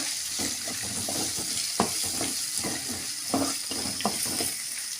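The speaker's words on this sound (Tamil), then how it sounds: "வெங்காயம் நல்லா வதக்கிக்கோங்க. கோல்டன் ப்ரௌனாக வரட்டும், அது வரைக்கும் வதக்கிக்கோங்க" Onions sauté in hot oil until golden brown for a rava vegetable dish, a continuous hiss with irregular stirring scrapes and soft clicks, close, no talking.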